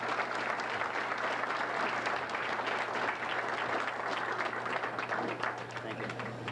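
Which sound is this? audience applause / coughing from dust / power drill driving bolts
audience applause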